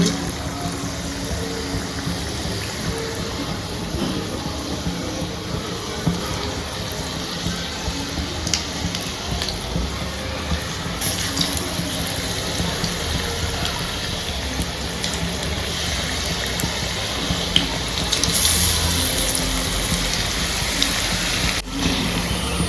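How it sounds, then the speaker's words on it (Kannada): Chillies for mirchi bajji are dropped one by one into hot oil and fry with a continuous dense bubbling sizzle. The sound is steady and close throughout, with no talk. "ಆಯಿಲ್ ಬಿಸಿ ಆಗಿದೆ ನೋಡಿ, ಒಂದೊಂದು ಚಿಲ್ಲಿ ಬಿಡ್ತಾ ಇದ್ದೇನೆ."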